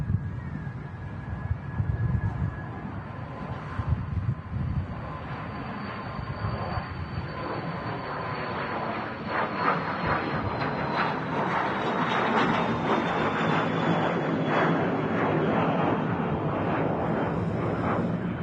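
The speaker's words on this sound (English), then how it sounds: "That was a Cessna Citation off to Brussels" A Cessna Citation business jet taking off at a busy airport, a steady broad engine roar with a slowly falling high whine that builds and holds loud for the whole span, heard from a distance outdoors.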